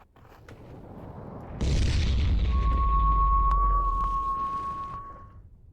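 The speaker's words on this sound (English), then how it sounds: "let's explode." A deep booming explosion in a video game erupts after a rising rumble, holding a loud low roar with a sustained tonal ring before slowly fading.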